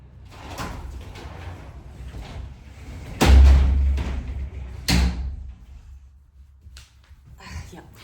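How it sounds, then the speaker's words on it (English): A door slides and bangs shut nearby, with a second thud shortly after, amid quiet room noise and some faint speech. "I'd like to shut the door."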